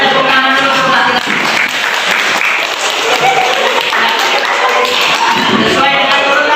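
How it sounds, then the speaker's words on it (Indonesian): Classroom of students applauding together in a school lesson, a dense, steady burst of many hands clapping that fills the whole stretch at close range. "Kita tepuk tangan dulu untuk laki-laki."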